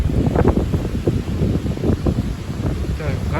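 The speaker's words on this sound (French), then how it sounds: "C'est vraiment des grosses rafales." Strong April wind gusts above 80 km/h batter the outdoors, making a continuous loud, low roaring rumble with heavy buffeting on the microphone.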